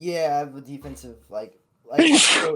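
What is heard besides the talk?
sneeze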